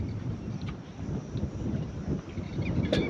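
Strong, gusty wind roars across an open farm field with coconut trees, a constant low rumbling buffet with surges and heavy wind noise on the microphone, and no voices.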